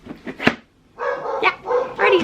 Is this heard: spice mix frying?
no